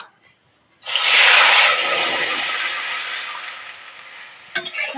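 Chicken boiling water poured into a hot cooking pan of drumstick (sajne danta) vegetable curry, setting off a loud, steady sizzle that slowly fades, with a few clinks of stirring near the end.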